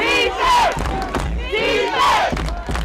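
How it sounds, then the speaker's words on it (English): A home crowd at a Baltimore Rams football game roars in loud swelling waves of cheering and chanting, with rising collective shouts, a large close crowd. "You gotta love the crowd."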